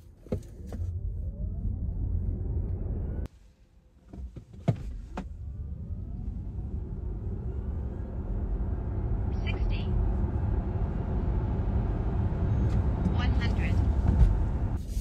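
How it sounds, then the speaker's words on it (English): A 2022 Hyundai IONIQ 5 electric car accelerates from 0 to 100, its steady motor whine rising in pitch under continuous road and wind rumble. A brief dip in the noise comes early on, and faint chimes are heard. "this is the 0 to 100 of this 2022 IONIQ 5"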